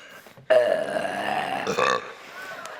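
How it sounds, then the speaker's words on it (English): A performer in a stage production of Wonka Jr lets out one long, loud, drawn-out burp lasting about a second and a half, close and clear, followed by quieter room noise. "Oh, how I love to burp."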